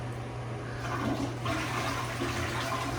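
A freshly set toilet flushes in a steady, close rush of water that swells slightly midway and keeps going for all three seconds, with no talking.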